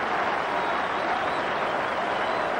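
Cricket crowd at a Yorkshire v Lancashire NatWest Trophy quarter-final applauding a wicket by Darren Gough, broad steady clapping from a large ground audience with no clear voices.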